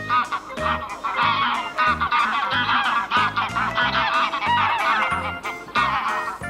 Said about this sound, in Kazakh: Қаз.